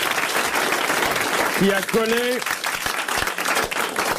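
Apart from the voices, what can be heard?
audience applause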